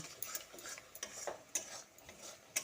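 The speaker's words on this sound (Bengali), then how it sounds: "হলুদের গুঁড়োটা দিয়েও টমেটোর সঙ্গে ভালোভাবে মিশিয়ে নিচ্ছি" Spoon scraping and stirring turmeric powder into tomatoes in a hot pan, faint scattered clinks and scrapes with soft sizzling underneath.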